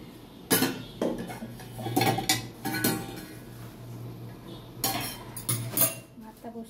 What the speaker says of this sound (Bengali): এই ঢাকনাটা খুলে